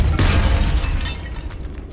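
Forceful Depulso spell blast in Hogwarts Legacy, one loud close burst that booms and rumbles, then fades over about two seconds, with no talk.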